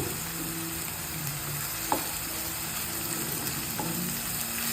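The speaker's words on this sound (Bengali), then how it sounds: "দিয়ে নাড়তে থাকবো পেঁয়াজ আদা রসুনের কাঁচা ভাতটা গন্ধটা যেন চলে যায়" Whole spices like cinnamon, cardamom, cloves and bay leaves with onion paste frying for chicken korma, a dense steady sizzle with occasional spoon knocks as they are stirred, no talking.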